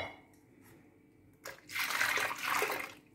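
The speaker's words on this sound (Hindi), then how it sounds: "तो इसी जार में हम करके पानी डालेंगे।" Water poured from a jar into potato papad batter in a kitchen: after faint clinks, a loud splashing gush of liquid lasting under two seconds.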